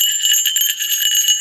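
A small bell toy hanging from a Lovevery baby play mat jingles continuously in a bright, close, rapid tinkle with no voices.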